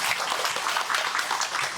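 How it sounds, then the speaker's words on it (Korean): An audience at a high school college-admissions information session for first- and second-year students claps for a department head. The applause is a steady, dense wash of many hands, moderately loud and unbroken for a short stretch. "제가 미리 좀 한번 큰 박수를 좀 부탁을 좀 드리겠습니다"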